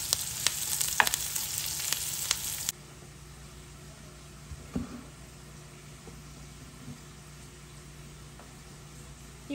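A spice tempering crackles and fries in hot oil for pepper rasam, a loud, busy sizzle with sharp pops for about three seconds, then dropping abruptly to a faint low hum with a few soft knocks.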